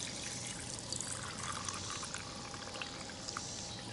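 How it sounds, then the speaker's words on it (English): Water poured steadily into a container during a recession reloading setup, a continuous close splashing trickle with no talking. "now we've got some water to put in here."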